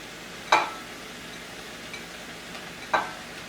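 Chili with rinsed canned beans is stirred in a pot, giving two short, scraping clinks about two seconds apart over a quiet background hum.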